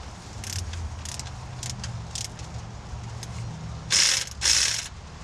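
A ratchet wrench loosens a bolt on a 1977 Chevy C10 engine, giving soft clicking turns at first, then two louder, sharper ratcheting bursts near the end, all close by.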